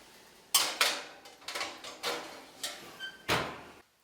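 Knocks and thumps in a kitchen as a baking sheet of pumpkin halves goes into the oven, with several sharp bangs and clatters of the oven door and pans, close by and without talk.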